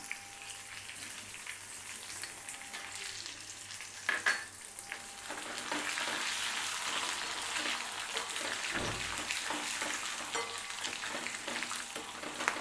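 Garlic sautéing in oil in a pan for guava chutney, a steady close crackling sizzle that runs throughout, with a few brief clatters of stirring partway through and no talking.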